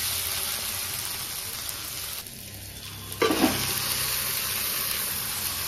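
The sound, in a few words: goat meat added to fried spice paste, sizzling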